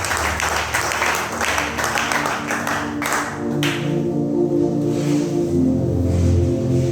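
Church congregation applauding the Lord during a sermon, sustained dense clapping from a large crowd that continues steadily throughout, with music or voices swelling underneath toward the end.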